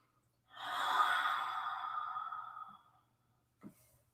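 During a home yoga practice, a single long, deep exhalation sounds close and breathy, fading out slowly, and is followed by a short soft sniff.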